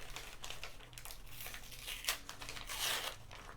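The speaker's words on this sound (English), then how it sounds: "once you get this part open, let's just peel this back part here" A plastic treat bag being peeled open by hand, soft close crinkling and tearing rustles that rise in a couple of brief louder crackles.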